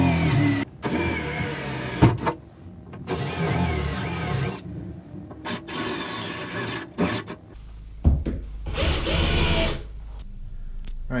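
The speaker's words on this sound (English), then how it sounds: "Now we're drilling 5/16 inch holes into this so we can" A power drill bores 5/16 inch holes for shower door anchors in a bathroom, whining in several bursts of varying length with short pauses between.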